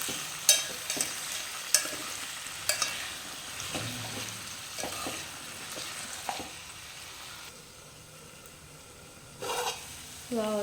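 A spoon stirs potato curry frying in a pan, with several sharp clinks against the pan over a low sizzle, close by, then a quieter stretch before more scraping near the end.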